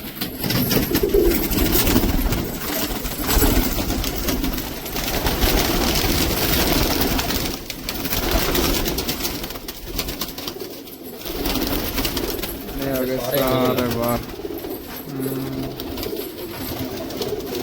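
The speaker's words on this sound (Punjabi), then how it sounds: "ਮਾਦੀਆਂ ਮਗਰ ਜਾਂਦਾ ਹੈ ਕਬੂਤਰ" A male pigeon coos persistently while chasing females, his throaty calls rolling on among dense flock noise and rustling, loud and close throughout.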